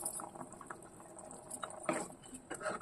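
Jackfruit seed soup simmers at a rolling boil in a pot, a soft continuous bubbling and popping with brief louder gurgles, close and fairly quiet, with no talking.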